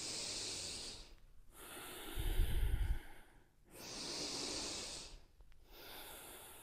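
Deep, loud breaths during a yoga flow exercise, slow drawn-out inhales and exhales in a steady rhythm, close and audible with a breathy hiss and one heavier snort-like exhale.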